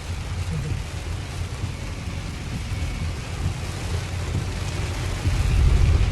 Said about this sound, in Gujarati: ચાલુ વરસાદ પણ છે.